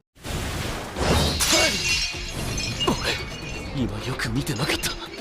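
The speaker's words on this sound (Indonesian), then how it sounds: "pedangnya Sonic langsung hancur digigit sama Saitama" Sword shattering as it is bitten in an anime fight scene: a sharp crash of breaking metal, loud and close, followed by ringing debris and scattered impacts, with voices and cries over it.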